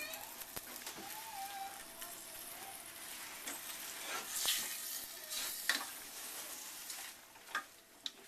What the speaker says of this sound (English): we're waiting for this butter to melt